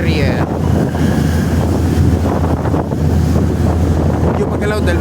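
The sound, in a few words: rough sea waves in Sydney Harbour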